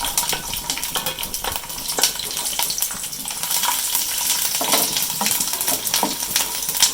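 Garlic sizzles and crackles steadily in hot oil while guava pickle is cooked, with a stirring utensil clinking against the pan now and then and no talking.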